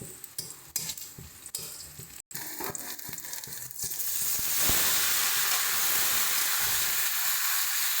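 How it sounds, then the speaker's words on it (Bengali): Chopped tomatoes are added to lightly golden fried onions in a pan for a spicy tomato chutney. Scattered stirring clicks give way to a louder, continuous hissing sizzle as the tomatoes hit the oil. "এবার এর মধ্যে আমরা আগে থেকে কেটে রাখা টমেটোটা দিয়ে দিচ্ছি।"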